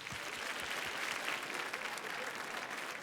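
A live comedy show audience claps steadily for about three seconds, a dense even patter of many hands with faint voices mixed underneath.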